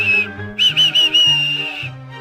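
A railway guard's whistle blows on a station platform, sounding several loud, shrill blasts, with a sustained final blast of about a second, over a low musical drone.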